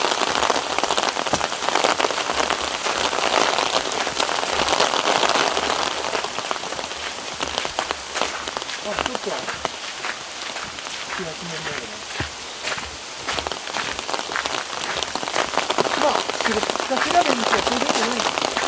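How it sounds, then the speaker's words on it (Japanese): Heavy rain pours at a large shrine in Shiga, a loud, dense and continuous hiss of drops striking surfaces close by, with people talking faintly beneath it. "ごめんなさい、雨で何も聞こえない。"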